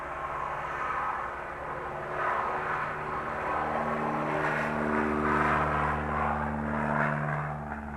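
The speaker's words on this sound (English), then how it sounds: "Note that the takeoff distance is substantially longer now." A small propeller airplane takes off in warm late-afternoon mountain conditions, its engine droning steadily nearby with pitch rising and shifting as it accelerates, no talk.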